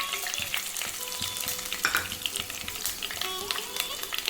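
Curry leaves and dried red chillies sizzle in hot oil while tempering a green apple pickle, a close, continuous crackle with light stirring scrapes throughout.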